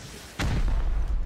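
Rocket explosion in the Rust survival game, a single sudden heavy boom after a brief quiet moment, loud and close, with a rumbling tail that lingers to the end.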